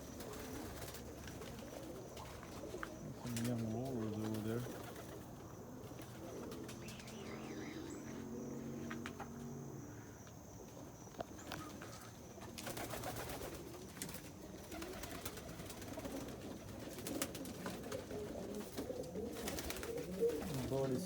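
Pigeons coo in low, rolling calls inside a loft, with occasional chirps and faint wing movement, set against a steady background murmur and a bit of quiet talk.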